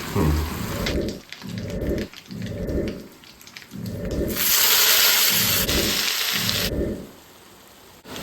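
Raw plantain pieces frying in hot oil with mustard seeds, a loud rain-like crackling sizzle with pulsing rumbles that surges into a bright, intense hiss midway before easing off, near and without voices.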